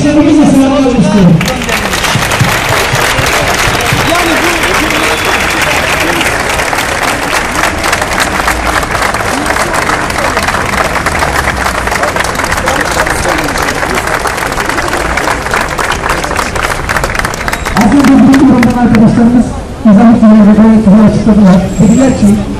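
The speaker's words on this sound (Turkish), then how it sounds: "birlikte alkışlarımızla selamlamak istiyorum" A protest crowd applauds with sustained, dense clapping for about 16 seconds. A voice speaks before the applause starts and again as it fades near the end.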